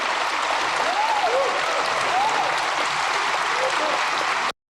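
Steady, moderately loud clapping rises from an audience during a political speech. It runs evenly across the whole stretch, with faint voices or whistles mixed in, before cutting off suddenly.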